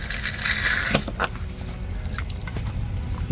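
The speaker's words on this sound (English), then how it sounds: "water drains out, and you're golden" Water drains from a frost-free yard hydrant after it is shut off: a brief gush at the start, then scattered drips and trickles, close by and fairly faint.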